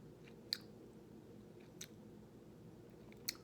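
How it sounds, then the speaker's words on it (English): Someone chews food slowly during a mindful eating exercise, with three sharp, crisp bite clicks spaced apart over a quiet, low background hiss. "Now chewing, intentionally biting down."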